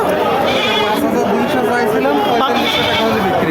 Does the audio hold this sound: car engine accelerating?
no